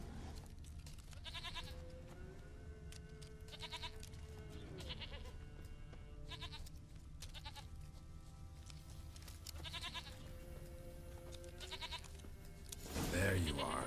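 A goat in The Witcher 3 video game bleats several times over a constant ambient game background, while a voice talks intermittently.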